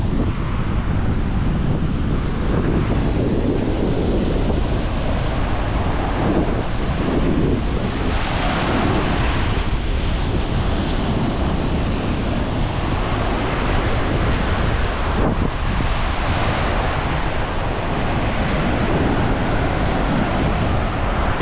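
Ocean waves wash steadily onto a Puerto Rico beach, a continuous broadband roar of surf with wind buffeting the microphone throughout, loud and close, with no voices.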